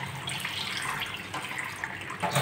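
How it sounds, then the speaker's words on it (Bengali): Water runs steadily from a kitchen tap as hot water is poured off boiled eggs and cold water is added, a continuous close splashing flow with no voices. "গরম জলটা ফেলে দিচ্ছি, দিয়ে এর ভিতর ঠান্ডা জল,"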